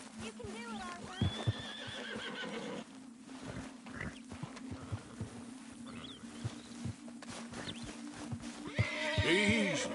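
Horses in Red Dead Redemption 2 whinny and neigh repeatedly with hooves clopping, close and loud, while a voice calmly coaxes and soothes an animal between the calls.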